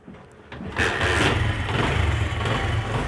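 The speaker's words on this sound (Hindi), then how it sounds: "इसके बाद ये मोटरसाइकिल स्टार्ट कर लेते हैं।" Small commuter motorcycle engine cranking and catching after a quiet start, then settling into a steady close idle that runs for the rest of the moment, with no speech.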